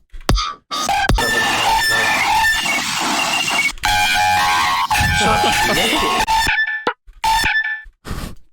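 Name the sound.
chicken clucking and crowing, edited into dubstep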